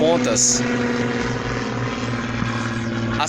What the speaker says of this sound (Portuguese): passando aqui um avião